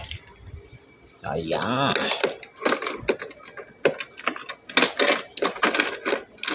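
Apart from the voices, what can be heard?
keys of a new motorbike jangling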